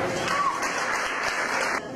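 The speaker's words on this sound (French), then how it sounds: "Est-ce qu'on peut applaudir très fort pour Karine ce soir?" Wedding guests applaud the bride Karine at an evening reception, a steady dense wash of clapping filling the room for about two seconds before tapering off.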